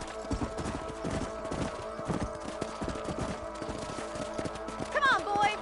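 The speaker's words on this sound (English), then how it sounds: "Let's get back on the horses and see what else is going on." Horses in Red Dead Redemption, the PS4 western game, clopping steadily over ground as they ride along, a dense rhythmic hoof patter with a brief whinny-like sound near the end and faint talk underneath.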